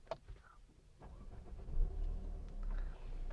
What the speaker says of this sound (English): let me quickly start this car because it's getting a little hot